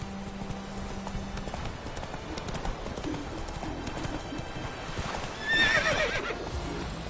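In The Witcher video game, a horse gallops with rapid, rhythmic hoofbeats throughout, and a loud, shrill neigh rises near the end.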